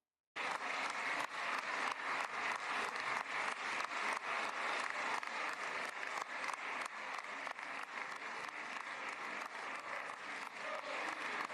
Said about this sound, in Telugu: ఆ కెనెసెట్ లో ప్రత్యక్షమై మోదీ గారి ప్రసంగాలకు చప్పట్ల మీద చప్పట్లు కొడుతూ మోరు మోగించారు ఆ హాల్.